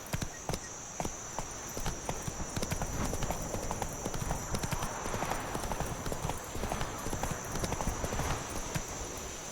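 A horse gallops in The Witcher 3, its hooves drumming in a fast, continuous clip-clop beneath a faint steady tone and game ambience.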